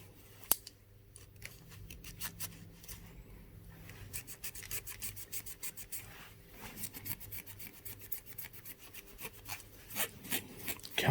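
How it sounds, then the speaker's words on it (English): Brake cleaner is sprayed and a sticky wire wiped on a Honda CB750 K2 motorcycle ignition circuit, heard as quiet irregular rubbing and scrubbing strokes with short bursts, close up and alone. "I might just give that wire a bit of a clean, actually. It's quite sticky. Right, bit of brake clean."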